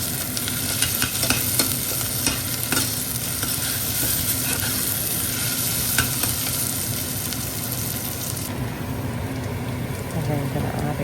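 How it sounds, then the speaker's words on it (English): Onions fry in hot oil in a preheated pan while being stirred, a continuous dense sizzle with repeated scraping strokes of a spoon close by, the hiss thinning slightly near the end. "So I'm going to fry those onions until they become brown and"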